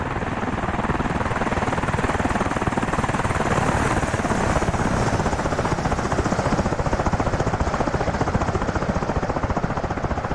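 Black Hawk helicopters in the DCS World flight game fly steadily, a dense, continuous rotor chop and turbine roar that holds loud and even throughout without any pause.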